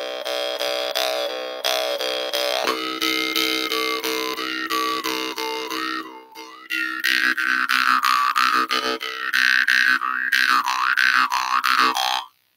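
Harmonica played with hot air and an open throat, a loud, continuous wailing tone with bending, boinging pitch swoops and a brief dip midway before ending abruptly.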